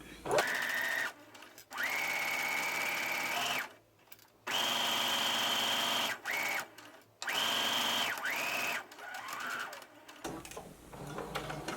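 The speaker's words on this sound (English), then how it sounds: "Begin sewing, back stitch, and continue sewing until you get to that dot." A sewing machine runs a seam on a fabric mock neck bishop sleeve top in several steady buzzing stretches, pausing and shifting briefly for back stitches, close and clear.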